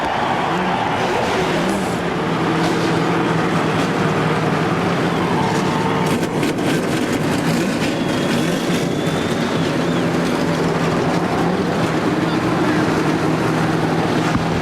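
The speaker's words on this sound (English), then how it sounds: "gentlemen, start your engines!" At the 2001 Daytona 500, a field of NASCAR race car engines fires up and rumbles together at a distance, a dense continuous roar with wind buffeting the microphone.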